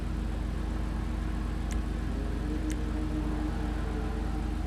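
Benefactor Schlagen GT sports car idles in GTA Online, a low, even engine hum at a fairly quiet level, steady throughout with two brief faint clicks.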